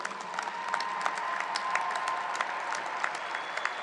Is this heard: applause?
yes